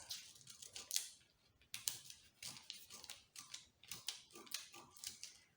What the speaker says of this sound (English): So I'll go ahead and cut it out.